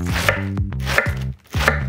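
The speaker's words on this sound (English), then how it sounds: "Slicing cabbage." A 150mm Japanese kitchen knife slices through cabbage in three crisp, crunching cuts, each ending in a board knock, evenly spaced and close.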